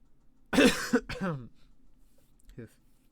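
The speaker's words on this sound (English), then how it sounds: "coughing up my lungs" A few harsh, close coughs in quick succession, then a single shorter cough after a pause, in an otherwise quiet room.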